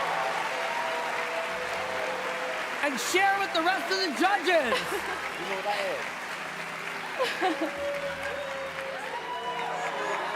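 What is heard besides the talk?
studio audience applause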